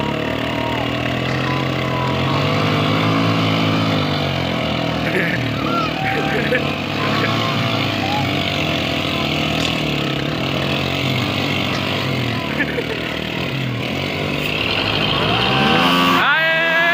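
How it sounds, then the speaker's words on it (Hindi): Tractor engine just started and running steadily, a continuous loud rumble close to the microphone with a slight surge near the end. "जी दोस्तों ट्रैक्टर स्टार्ट हो गया"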